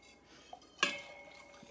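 Liquid and soup ingredients for a Tuscan tortellini vegetable soup pour and splash into a quick cooker, with one short clear splash followed by faint drips and trickling, fairly close and not loud.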